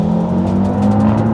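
A 2017 Audi TT RS coupe pulls hard from a standstill toward 62 mph, its engine droning loud and steady with a strong low tone held close throughout, no voices over it.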